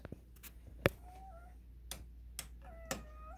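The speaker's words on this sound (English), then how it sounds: "that's a weird meow." A pet cat gives several short, odd-sounding meows, close and fairly quiet, spaced apart in a quiet room with a low background hum and a few soft knocks.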